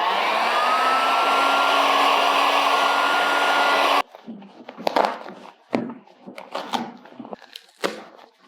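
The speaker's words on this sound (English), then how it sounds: "So for the next one, I'm going to get out my trusty heat gun." Heat gun blowing hot air to loosen cork from shoe soles, a loud, close, steady roaring whoosh that stops abruptly midway, followed by light clattering handling knocks.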